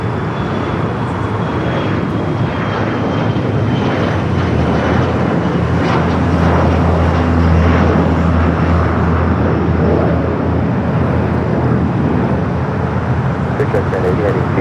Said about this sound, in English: we got the JSX having the Cabo San Lucas now rolling down to 25 right